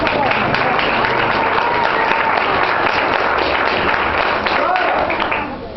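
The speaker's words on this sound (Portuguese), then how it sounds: "Uma salva de palmas" A crowd at a church gathering breaks into loud, sustained applause, dense clapping from many hands that carries on steadily and eases slightly at the very end, with voices mixed in under it.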